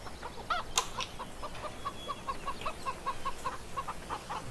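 Chickens in the Farming Simulator 17 video game, on Millhouse Farm, cluck in a steady string of short, faint calls, with one brief squawk near the start.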